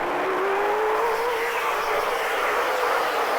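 Super late model stock cars race at Auburndale, a loud continuous engine roar with a rising whine as cars run side by side, steady and close throughout.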